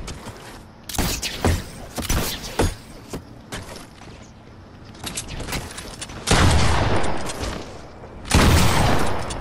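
Gunfire in Fortnite cracks in a series of sharp, close shots early on, then gives way to longer sustained bursts and booming blasts, loud and dense with no talk over them.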